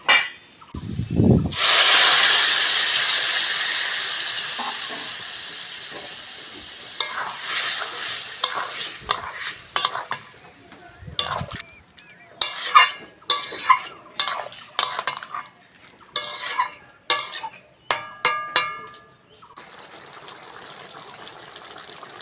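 Small fish chochchori with potato and tomato fries in a pan as a metal spoon stirs and scrapes in irregular bursts, a loud sizzle rising early then settling into intermittent clinks and scrapes over a soft background hiss.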